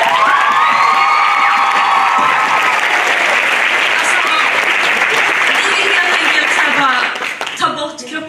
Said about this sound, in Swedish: En applåd för kvinnor.